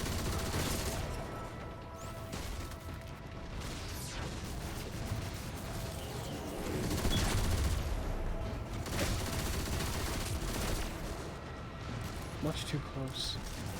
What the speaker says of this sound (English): What's shooting that purple laser?